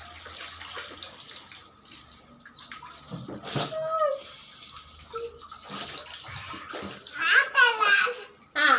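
Water splashes and pours from a mug over a small child during a home bath, irregular close splashing and trickling, with the child babbling and an adult talking in between.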